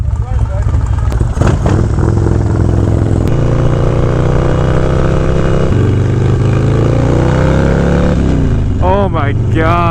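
Repaired motorcycle engine running steadily and loudly throughout, with a sustained low rumble and slight shifts in pitch, while people talk over it.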